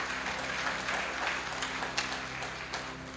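Congregation applauding at an evangelistic church service, with scattered claps rising over a steady hum and background noise, moderately faint and brief.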